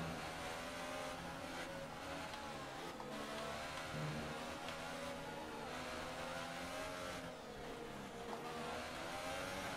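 A Formula 1 car in the racing game F1 2018 screams at high revs in a steady, droning whine. The engine pitch rises and dips through gear changes and stays loud and continuous throughout, with no talk.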